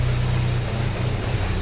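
A Nissan Almera engine idling rough with a misfire, a low steady droning hum with an uneven, shaky pulse underneath, close and fairly loud with no talking.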